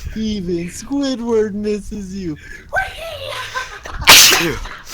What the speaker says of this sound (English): I was so scared that you didn't actually sneeze there because I couldn't hear well